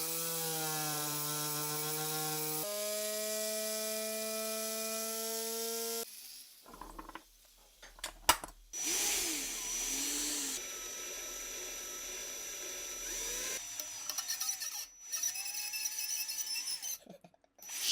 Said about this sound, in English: Then the drill bit takes over,